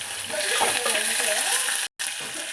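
Chopped onions fry in oil in a pan with a steady, close hiss and sizzle, stirred now and then. A voice talks briefly over the sizzling.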